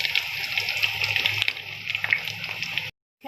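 Dal lentils frying in hot oil for nimko, a dense continuous sizzle and crackle close to the mic, steady for about three seconds before cutting out abruptly.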